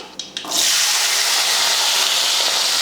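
Whole shallots and garlic cloves drop into hot oil in a pan: a couple of light taps, then a sudden loud, steady sizzle that hisses on close and continuous.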